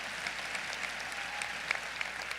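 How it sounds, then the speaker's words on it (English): A commencement crowd gives a round of applause, a steady, distant wash of many hands clapping with occasional sharper individual claps, fairly quiet throughout. "Y'all give him a round of applause."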